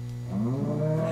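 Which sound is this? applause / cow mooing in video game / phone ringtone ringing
cow mooing in video game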